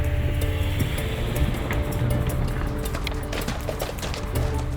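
Hooves of a horse clip-clop in a steady run on a film set, a fairly loud rhythmic patter over a constant low rumble of background noise.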